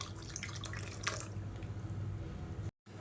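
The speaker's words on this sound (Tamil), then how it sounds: "மிக்ஸி அலசிட்டு அந்த தண்ணியை சேர்த்துக்கலாம்." Rinse water from a mixer jar pours into a bowl of chutney, a soft trickle with a few splashy drips, quiet and close, ending in a brief gap.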